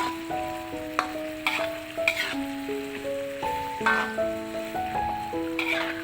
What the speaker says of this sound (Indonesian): Ini kita tumis atau gongso sampai wangi ya, dan bumbunya matang.